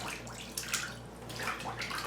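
Water moving and lapping in a bathtub where a wool blanket is left to soak, a soft, steady wash of small splashes and trickles close by with no talking.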